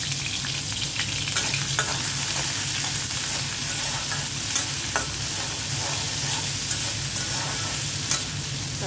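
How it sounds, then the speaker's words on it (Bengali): Small prawns fry in mustard oil, a steady dense sizzle with scattered sharp crackles and pops running throughout, close and fairly loud with no talking. "সরিষার তেল দিয়ে ভেজে নেব চিংড়ি মাছটা।"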